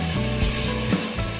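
Onions going into hot oil with whole spices, garlic-onion paste and chilli powder, giving a steady, loud close-up sizzle with faint stirring scrapes and no talking.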